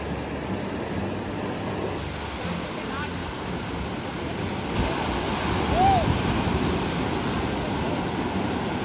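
Sea waves at Mochemad beach in Vengurla, with a river on one side and the sea on the other, roll as a steady broadband wash with wind noise, swelling slightly louder midway.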